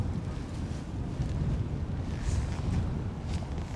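Wind gusting by the Gauja river, a loud low rumble buffeting the microphone, continuous and close throughout with no voices.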